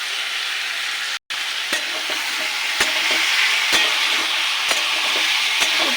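Chicken fries in a pan with salt and turmeric for a chicken kosha, a loud, constant sizzle broken by a brief cut-out and several sharp spoon taps as the pieces are stirred.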